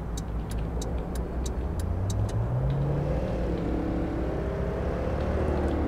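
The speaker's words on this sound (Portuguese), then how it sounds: "Acelerar mais um pouquinho aqui na estrada" An Infiniti Q60 3.0 Concept 2016 accelerates along a rural road in the City Car Driving game, its engine droning loudly and the pitch climbing steadily with rising revs, with a few ticking clicks early on.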